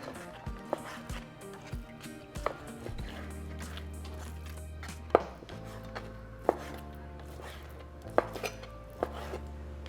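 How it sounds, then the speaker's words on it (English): A knife chopping beef into small cubes on a cutting board for sopes, with sharp, irregular taps close by over a low steady hum, and no talking. "So I just grab a stack of meat. We're going to cut into strips and then into small cubes."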